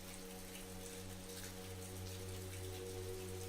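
Steady rain falls on a farm, a dense, even patter of drops on surfaces with a low continuous hum beneath, holding at a constant level with no voices.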